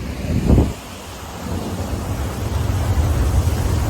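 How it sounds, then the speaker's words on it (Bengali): A low boom of thunder opens, then a steady, rumbling wash of heavy rain and wind continues, in Digha. "এত জলের চাপ তারপরে বৃষ্টি সব কিছু হচ্ছে এখন"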